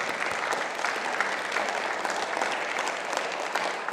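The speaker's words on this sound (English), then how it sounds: "So applaud yourselves." A Sunday service congregation applauds in a dense, even wash of clapping that fills the room, steady throughout with no speech over it.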